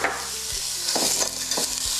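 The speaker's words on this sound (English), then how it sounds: "We're going to go ahead and saute these for 5 minutes until the onions are soft" Thin onion slices sautéing in a hot pan for Indian spiced red lentils, a steady close sizzle with a few soft stirring scrapes and knocks, no voices.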